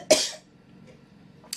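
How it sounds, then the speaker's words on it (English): A single sharp cough near the mic, followed by quiet room tone and a faint breath or small second noise at the end. "I'm just gonna cough."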